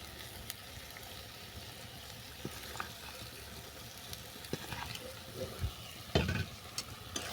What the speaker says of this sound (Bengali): চলো নারকেলটা ভালো করে মিশিয়ে নিলাম